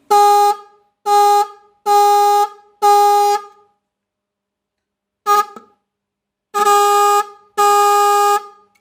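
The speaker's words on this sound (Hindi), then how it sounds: "अच्छी पिच हमें मिले और ये हॉर्न बजे" A repaired car horn honks in a series of loud blasts, four evenly spaced, a brief toot, then two longer honks after a pause.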